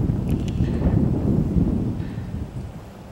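Wind gusting at a pond during herabuna fishing, a steady low rumbling buffet against the microphone that swells slightly and then eases, with no other clear sound.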